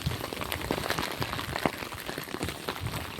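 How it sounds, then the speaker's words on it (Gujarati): Steady rain patters on a surface, a dense, continuous hiss of drops close by with no voices. "આમ જુઓ આજનો વરસાદ છે"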